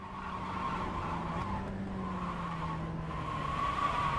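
Tires squealing as a car oversteers on the Barber track in a racing video game, a sustained scrubbing screech over a steady engine drone, loud and close.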